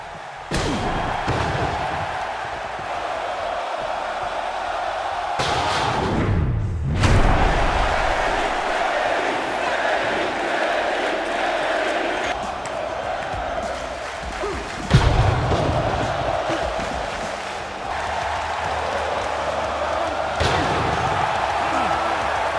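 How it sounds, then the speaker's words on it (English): Wrestling slams thud heavily onto the ring in the video game AEW Fight Forever under a steady roaring crowd, with several sharp impacts spread across the stretch and a commentator talking throughout. "Listen to not only the crowd, but the impact on the ring, the sound of the slams,"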